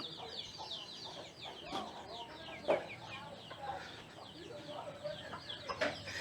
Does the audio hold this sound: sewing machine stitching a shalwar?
no